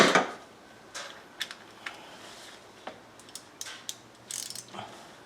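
A ratchet with a 5/8 spark plug socket breaks loose a spark plug on a 2010 Yukon XL, heard as a series of sharp clicks and metallic snaps spaced irregularly, close and fairly quiet.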